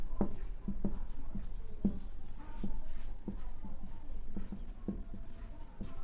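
Math is written on a board in steady scratchy strokes with regular taps, close and clear over a low background hum.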